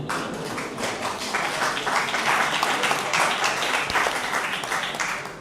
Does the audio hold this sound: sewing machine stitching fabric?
no